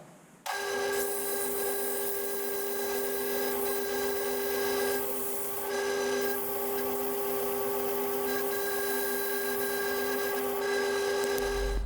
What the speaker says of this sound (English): So I've slowed the lathe down to 400 RPM, 60 grit sandpaper.